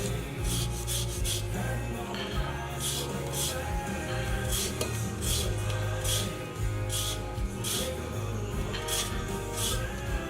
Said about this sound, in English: So just a microplane, just to get all around this lime.